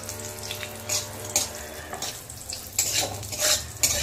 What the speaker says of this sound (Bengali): ঘিয়ের মধ্যে ভেজে নেব কিছুটা কাজু আর কিশমিশ